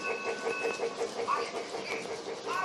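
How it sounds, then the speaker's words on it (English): A Lionel Polar Express G-gauge toy train runs slowly along its track, giving a steady close rattle and rhythmic clicking of wheels on rail joints, with faint tonal whistle-like chirps mixed in. "here is the final train running"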